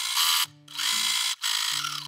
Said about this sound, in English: lining up the foot with the line and then just start sewing again.